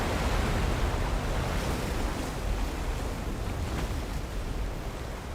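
Water gushes hard and steadily from an old pit burst open by intense pressure, a dense loud roaring rush that fills the whole stretch without pause.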